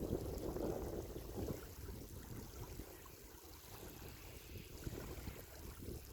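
Water flows and trickles steadily with a soft, broad rush of wind, a faint continuous outdoor wash without voices.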